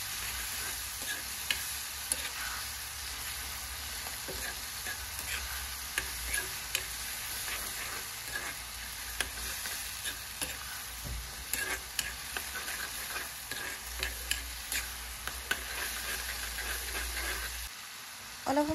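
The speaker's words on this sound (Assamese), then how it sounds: "এতিয়া গোটেই বস্তুখিনি মই ভালদৰে হেতাৰে লৰাই ল'ম।" Tomatoes, onions, salt and turmeric frying in hot oil while being stirred, a steady close sizzle and hiss broken by frequent scrapes and clicks of the spatula, with no talking.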